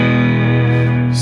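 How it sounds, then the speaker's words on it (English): A sustained electric guitar chord rings out through a surf amp preset in Ableton Live, washed in heavy hybrid reverb with a bright, shimmering tail and slight distortion. "So that's just the boost amp right here, with that hybrid reverb at the end."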